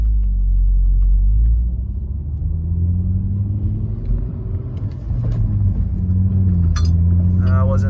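A Volvo P1 car rolls down a street with a steady low engine rumble and road noise, running close throughout, with a few faint clinks near the end.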